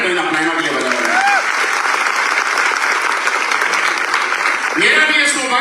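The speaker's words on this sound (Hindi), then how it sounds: "ताली बजानी है तो इन अपलाइनों के लिए बजा रहे हैं" An audience at an AWPL wellness gathering in Lucknow applauds loudly and steadily for several seconds. A voice briefly rises over the clapping near the end.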